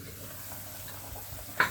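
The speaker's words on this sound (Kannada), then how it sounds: "ಈ ಥರ ಚೆನ್ನಾಗಿ ಕುದಿ ಬರ್ತಾ ಇದೆ" Water bubbling at a rolling boil in an open cooking pot for vegetable pulao, a soft, steady seething hiss with one brief louder clink near the end.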